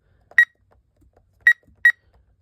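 Three short electronic beeps, the first alone and the last two close together, each a clean high tone over near silence.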